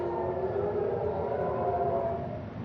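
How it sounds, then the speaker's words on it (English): A steady wailing air raid siren drones on in Haifa, Israel, warning of missiles, slightly distant, holding a sustained tone with a faint rumble beneath and no voices. "in Israel, air sirens are sounding in Haifa, warning of Iranian missiles"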